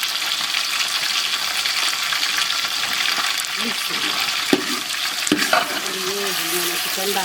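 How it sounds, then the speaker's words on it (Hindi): Chicken pieces sizzle and fry in a pan for biryani, a steady close crackling hiss with occasional stirring clinks and scrapes, with someone talking softly over it. "ये मैंने चिकन डाल दिया, ये लाइट ब्राउन होगा तो उसके बाद मैं दूसरे मसाले डालूँगी इसमें।"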